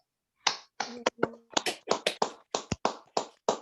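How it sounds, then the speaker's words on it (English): A small group on a scouting district roundtable call gives a round of applause for Carol, a sparse string of distinct claps at moderate volume, as if from only a few people. "I'm hoping that we can get a round of applause for Carol"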